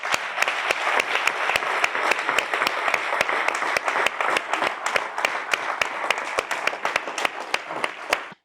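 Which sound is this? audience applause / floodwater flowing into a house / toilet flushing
audience applause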